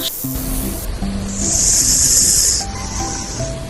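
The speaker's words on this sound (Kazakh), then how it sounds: "Жылан қандай дыбыс шығарады?" A snake's hiss, given as a sound example for children, rises as one sustained breathy burst over soft background tones, loud and close, then fades back into the quiet music bed.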